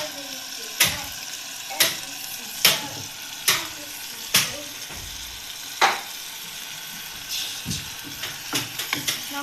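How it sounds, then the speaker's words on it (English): Egg curry paste being mixed with a little cream in a pan, giving a sequence of sharp spoon scrapes and clacks roughly once a second, with a soft sizzle underneath and no voices. "Now we mix it all together"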